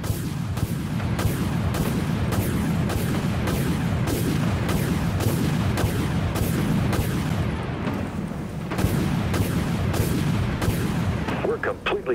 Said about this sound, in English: All silos launch missiles.